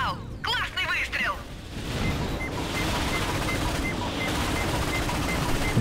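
Weapon fire on a winter planet in Ratchet & Clank on PS4, a steady rumbling barrage of shots and blasts running continuously, with a brief chirping electronic burst at the start.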